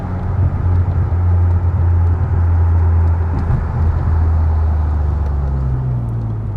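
A 15-year-old Seat Leon Cupra R 1.8T with a BAM 225 engine, which has some faults, accelerates hard. Heard from inside the cabin, its steady, loud engine rumble is joined by road roar, and no one talks.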